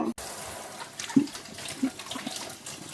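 Tap water running while an apple is washed in a kitchen sink, a soft continuous splashing stream with a few louder splashes and bumps, fairly close.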